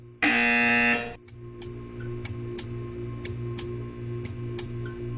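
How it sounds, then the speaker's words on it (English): In the video game Portal 2, a loud electronic buzzer blares for about a second, then cuts to a quiet room hum with a steady series of sharp ticks. "You will hear a buzzer."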